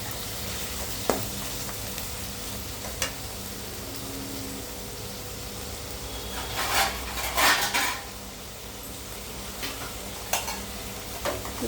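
Onions and tomatoes sauté with a little salt in a pan for chicken fry, giving a steady, close sizzle with spoon scrapes and sharp metallic clinks against the pan, and a louder burst of stirring midway.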